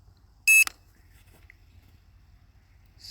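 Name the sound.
beeping from Hubsan Zino Mini SE drone app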